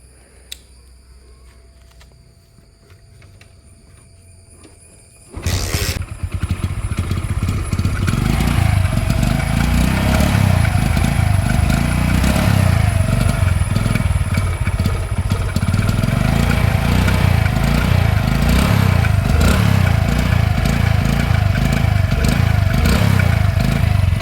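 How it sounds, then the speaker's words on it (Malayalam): A Hero Splendor motorcycle engine is started after a quiet moment, then runs steadily at a close, loud idle with a mechanical clatter for about twenty seconds, alone without talk. "ഈ സ്പ്ലെൻഡറിൻ്റെ സൗണ്ട് എന്ന് പറയുന്നത് ഒരു നല്ല രസമുള്ള"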